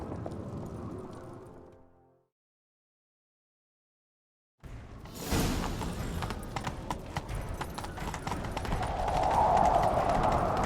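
Horse hooves pound in The Witcher 3, starting with a fading rumble, dropping to silence, then returning as a fast, loud galloping clatter that builds steadily, with a brief snort or whinny mixed in.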